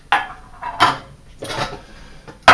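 A metal saucepan knocks and rattles onto a large Esbit solid-fuel camping stove in several separate clattering contacts spread over a couple of seconds, close and fairly loud, with no voices.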